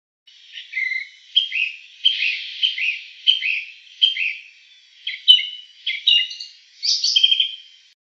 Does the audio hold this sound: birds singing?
yes